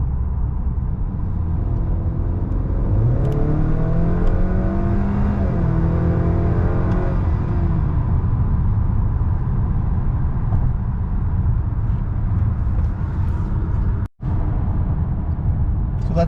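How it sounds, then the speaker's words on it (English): Honda Accord 2.0T with a ten-speed automatic and a stage 3 tune pulling hard on a highway, a steady loud engine drone and road rumble with rising whine through the pull, constant throughout with a brief dropout near the end. "I'm going to do one more pull."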